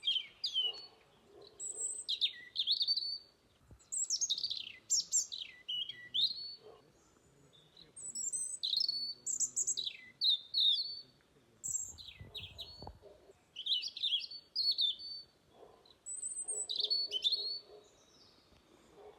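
Several birds chirp and tweet in short, sharp phrases throughout, fairly close, over quiet outdoor ambience near a lakeside forest, with a soft low rumble now and then.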